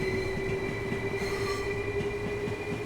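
A Class 377 electric train rolls past in Train Sim World 6 on the East Coastway line, a steady loud rumble of wheels with rhythmic rail clatter and a sustained whine, continuous throughout.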